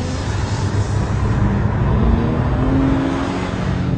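A Porsche 911 RS drives under load with a loud, steady engine roar and a rising pitch as it accelerates, close and continuous with no talking.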